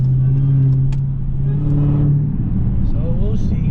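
A Dodge Hellcat with a Legmaker intake idling and rolling, a loud steady engine drone with a sustained tonal supercharger whine rising in pitch toward the end, with someone talking over it.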